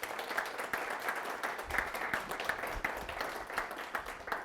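A crowd at Mercer Law applauds to welcome speaker Austin Petersen at a Libertarian talk, with steady, dense clapping from a room full of people, fairly distant and even throughout.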